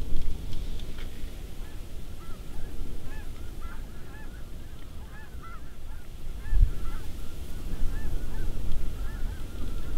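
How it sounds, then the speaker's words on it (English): A flock of white-fronted, snow and blue geese honks repeatedly, overlapping calls fairly close by over a steady background of rain and wind-like noise. "This time it was a whole gaggle of white-fronted and snow geese, and a few blue geese tossed in there too."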